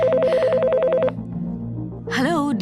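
A telephone rings in an office with a warbling electronic trill for about a second, followed by a low hum and a brief burst of bright cartoonish sound effects; no talking.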